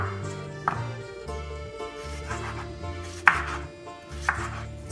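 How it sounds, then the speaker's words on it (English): A knife chops cucumbers on a cutting board in a home kitchen, sounding as a handful of crisp, evenly spaced thuds at a moderate pace, close and fairly quiet. "Cut the cucumbers in half."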